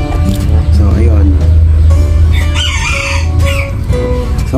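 Hens cluck and a rooster crows inside a backyard chicken coop on a rainy day, the loud close calls coming in bursts under someone talking throughout.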